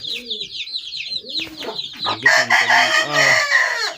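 Aseel chickens cluck and chatter close by, then an Aseel rooster crows loudly with a long, strained call that dominates the second half.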